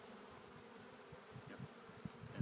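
Honey bees buzzing around an open nuc hive during a farm apiary inspection, a soft low steady drone with a few louder passes of individual bees close by.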